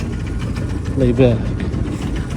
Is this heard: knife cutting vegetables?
no